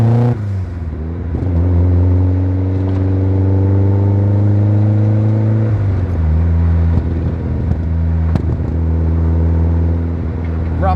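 A turbocharged Mazda MX-5 engine pulls hard under boost at around 18 psi wastegate pressure, a loud steady drone climbing in pitch for several seconds, easing off, then surging again with wind noise throughout.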